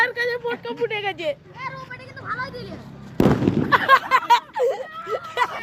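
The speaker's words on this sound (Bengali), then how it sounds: "ক্যামেরাম্যানের পায়ের কাছে পটকা ফুটে গেছে।" A firecracker bursts on an open field right by the camera operator's feet, one loud sharp bang midway, with excited voices talking before and after.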